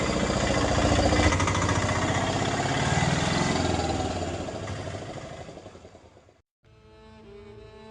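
A motorbike engine runs loud and close, revving with a rough mechanical rattle as it pulls away, then fades and cuts off before quieter background sound returns.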